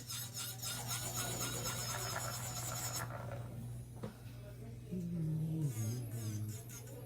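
Nail drill fitted with a fine sharp bit running against acrylic nails, a steady high whine with rasping grinding that drops away midway and returns with a lower squealing pitch shift, close and fairly quiet.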